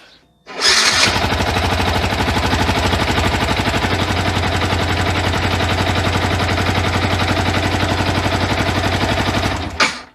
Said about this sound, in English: then you're supposed to start the engine